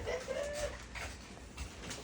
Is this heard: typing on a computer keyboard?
no